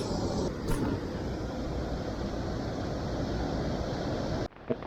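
Large raindrops fall onto the Kızılırmak river during a rainy fishing session, making a dense, continuous hiss that stays loud and even before cutting off abruptly near the end.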